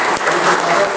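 An audience claps loudly and steadily during a political conference in Mumbai, the applause dense and continuous throughout with no gaps.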